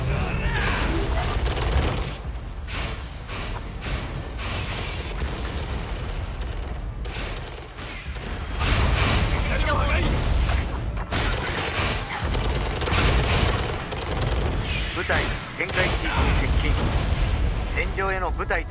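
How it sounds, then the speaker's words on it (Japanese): Enemy artillery shelling in the Xbox 360 game Tom Clancy's EndWar: dense, continuous bursts of booming blasts and gunfire-like bangs fill the whole stretch at steady loudness, with radio-style voices speaking over the battle. "敵の砲撃です。"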